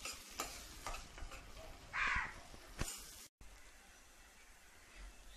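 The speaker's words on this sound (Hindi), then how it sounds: "हम इसमें डालेंगे हरी मिर्च और प्याज और इसे हल्का सा सुनहरा होने तक भून लेंगे" Green chilies and onion fry in a pan, heard as a soft sizzle broken by scraping stirs and sharp clicks, then a brief cut to quieter frying.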